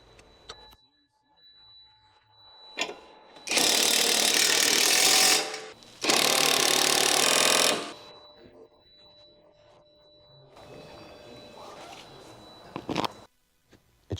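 Two long, loud bursts of a power tool, likely a socket driver, tighten the stabilizer link nuts on a 2006-2011 Honda Civic, with quieter clicks and handling noises between and after.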